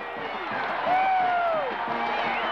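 A 1987 NCAA Final Four basketball crowd of UNLV Rebels fans roars and cheers in a big arena, a dense, sustained wash of voices with whoops rising above it.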